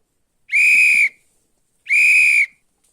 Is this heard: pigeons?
no